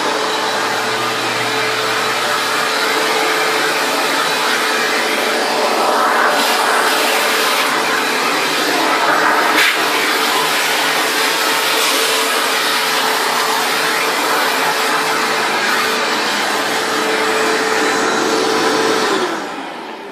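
Shop vacuum converted to water filtration, running with a steady loud whine and airy rush for about twenty seconds, pitch shifting slightly as it sucks up debris, then winding down at the very end.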